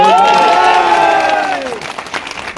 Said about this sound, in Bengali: জনাব তারেক রহমান সাহেবের জন্য একটা জোরে একটা তালি